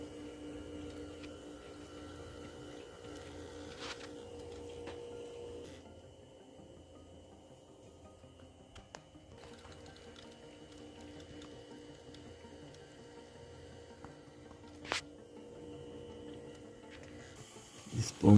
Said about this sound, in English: this pump is running and also another one.